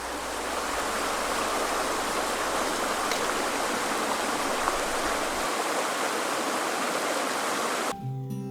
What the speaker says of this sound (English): It sounds pretty much like a roaring torrent.